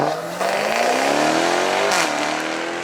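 A supercharged Jaguar V8 roars loudly nearby at a supercar event, its pitch climbing steadily through a hard rev before dropping sharply at a gear change and pulling on again.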